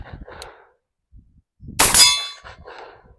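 A Tisas 1911 Carry B9R 9mm pistol fires a single sharp, loud shot of 124 grain +P Winchester ammunition, with a ringing metallic tail and quiet handling noises before and after.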